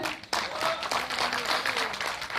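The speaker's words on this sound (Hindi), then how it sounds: "सर के लिए जोरदार तालियां" An audience gives loud, steady applause for a speaker at an event, dense clapping filling the room for a couple of seconds with a few whistles or cheers rising above it.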